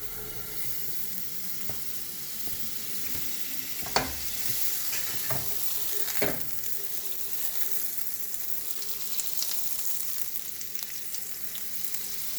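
Butter sizzling steadily on a hot tava as pineapple fries, a continuous close crackle with a few sharp scraping or tapping sounds from a utensil, and no talk.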